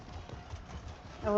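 A horse mount trots in a video game, its hooves clip-clopping in a steady, moderately loud rhythm before a brighter, louder tonal cue rises at the very end.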